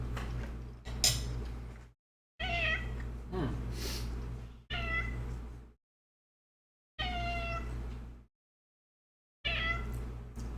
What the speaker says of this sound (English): Kiska is right next to the microphone, meowing at you, chat.